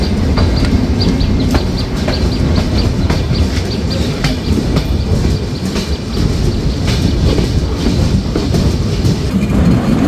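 The Dhumketu Express pulls out of Jamtail railway station in Bangladesh on its Dhaka to Rajshahi run, with steady clickety-clack from the wheels and a continuous loud rumble throughout, plus repeated sharp rail clicks and faint wheel squeal.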